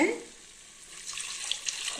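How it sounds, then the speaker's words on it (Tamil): Water poured into a cooking pot for green peas biryani made with seeraga samba rice, a steady soft splashing hiss that stays moderate and close, with a faint clink near the end. "தண்ணி ஊற்றிக்கலாம்"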